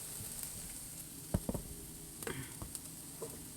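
Onion and pepper fry in a pan with a soft, steady sizzle, broken by a few light clicks and taps from stirring. The sound is quiet and there is no talking.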